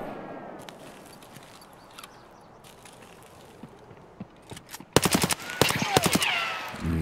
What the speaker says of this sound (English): Missed all my shots.